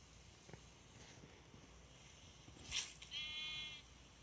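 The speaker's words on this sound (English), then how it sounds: "Sound like a sheep dying. A sheep from Minecraft dying." A Minecraft sheep lets out a few faint, short synthetic bleats late in the moment, the last one a drawn-out wavering call, over quiet game ambience with no talking.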